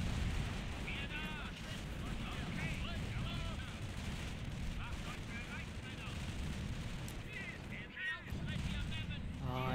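Explosions and gunfire rumble through a Company of Heroes battle, a steady, dense wash of combat noise with heavy low booms, while someone talks over the din throughout.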